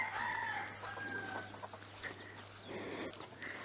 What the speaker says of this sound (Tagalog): Tapos may mga manok pa rin naman pala dito.